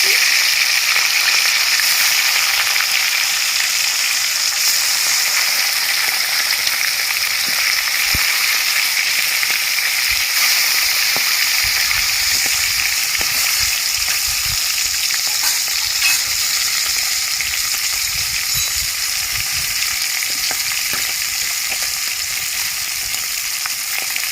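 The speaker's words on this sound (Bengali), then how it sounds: "কড়াই তেল গরম হয়ে গেছে মাছগুলো আমি ভেজে নিচ্ছি" Tilapia fish fry in hot oil in a kadai, giving a loud, continuous close-up sizzle with fine spitting crackles that holds steady throughout and has a faint low rumble underneath.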